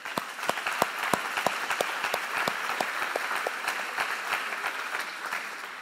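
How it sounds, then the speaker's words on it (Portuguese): An audience in a church claps for graduates of a course, with dense, sustained applause and sharp individual claps standing out, loud and steady. "Então, nós temos que aplaudi-los"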